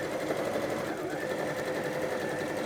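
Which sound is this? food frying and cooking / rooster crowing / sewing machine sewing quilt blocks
sewing machine sewing quilt blocks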